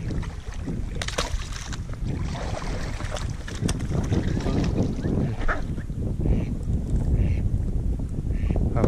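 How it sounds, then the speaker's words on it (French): Ducks quack repeatedly in the distance during a night at a duck-hunting blind, under steady wind and water noise with occasional faint voices. "Si, si, c'est des canards."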